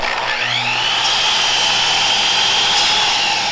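A miter saw whines at full speed and then winds down, a loud close motor tone whose pitch slowly falls over a few seconds while the blade spins down.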